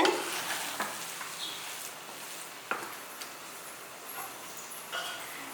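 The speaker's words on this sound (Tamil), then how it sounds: "நல்லா ஒரு வாட்டி கலந்து விட்டுட்டு" Fenugreek coconut milk rice with coconut oil is stirred in a pot, giving soft scraping strokes over a faint sizzle, with a few light clinks of the utensil.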